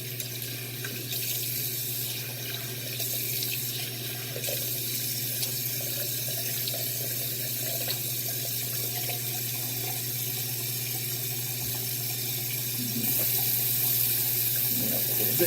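Water runs steadily from a tap into a sink during rinsing off after a head shave, a constant close hiss and splash with no talking.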